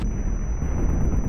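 A tank cannon fires in the World War II shooter Brothers in Arms: Hell's Highway, a heavy low rumbling boom that rolls on for over a second, loud and close with no voices.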